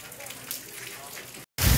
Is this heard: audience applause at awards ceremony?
no